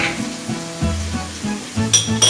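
Solyanka sizzling and frying in a pan as it is stirred, a steady crackle broken by soft scraping strokes, with a couple of brief clinks near the end.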